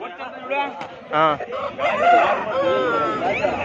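An aseel rooster at a busy Sunday poultry market crows loudly and close, with other fowl clucking and people talking over the market din.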